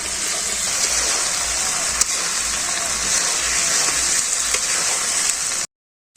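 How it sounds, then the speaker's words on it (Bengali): Meat sizzles steadily in a hot pan for a bhuna curry, a loud continuous hiss and crackle with a few sharper pops, ending abruptly in silence. "মাংসটা আমি কত সুন্দর করে ভাজছি"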